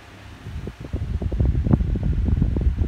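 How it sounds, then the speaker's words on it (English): An electric fan runs close up, its blades pushing air with a steady whooshing rustle that grows slightly louder and rougher after the first half second. No one speaks over it. "This one's got a lot of NDF wind noise to the blades"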